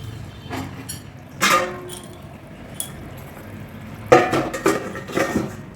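A cooking pot of rui fish curry is covered with its lid, giving a couple of separate metallic clinks and clatters up close, with a longer rattle of metal near the end and quiet kitchen background between.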